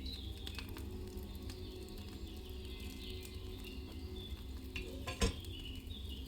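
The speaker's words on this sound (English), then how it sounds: "Hear that bubbling?" A cauldron over a fire bubbles and simmers in Kingdom Come: Deliverance II, a soft, steady bubbling with faint clinks and one sharp knock near the end, with no voices.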